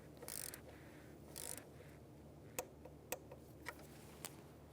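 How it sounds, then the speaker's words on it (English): Sparse, faint clicks of a 10mm socket ratchet torquing a fastener on a 1999-2004 Jeep Grand Cherokee during spark plug work near the throttle body, coming as four single ticks after two brief hissy bursts in a quiet space. "10mm socket, and just torque it."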